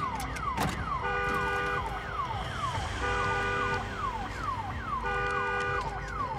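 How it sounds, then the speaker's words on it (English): A wailing alarm siren blares continuously in the video game Days Gone, its rising and falling tones repeating in regular cycles roughly every two seconds, loud and steady throughout. "Oh, damn alarm."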